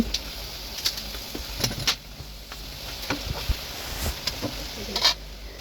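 Boiled bottle gourd greens stirred in an uncovered pan, with scattered scrapes and soft clatter over a low continuous sizzle, fairly close and moderately quiet.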